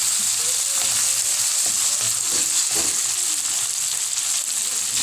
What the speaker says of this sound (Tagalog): Next ay ang ating ginger. So ayan, gisa-gisa lang.